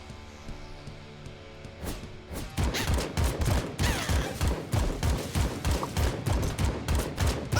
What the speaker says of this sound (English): Also the slowest AK I've ever seen. Like, it fires so slowly.